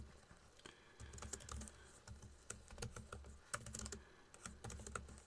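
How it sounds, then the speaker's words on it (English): Quick, uneven clatter of keys on a computer keyboard, heard up close and quiet, in short bursts with brief pauses and no talking. "I can type commands like this."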